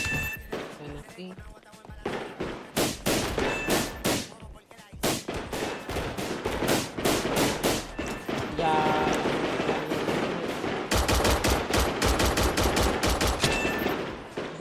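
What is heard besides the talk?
Combat gun firing with sound pack in FiveM video game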